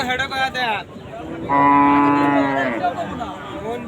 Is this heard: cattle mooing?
yes